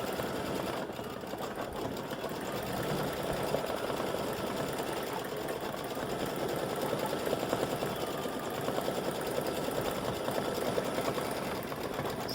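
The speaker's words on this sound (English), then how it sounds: "This is color 5 of the design that's stitching out." An embroidery machine stitches out a crescent moon, stars and flowers design, giving a long, even, rapid mechanical chatter that stays fairly quiet and steady with no talking.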